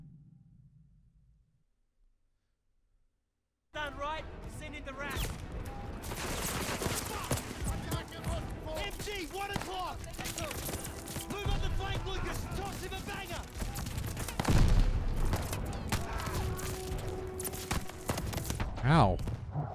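Gunfire from the Call of Duty Vanguard battle of El Alamein bursts in after a short silence: rapid, overlapping shots and thuds that keep going, with a voice talking over the combat.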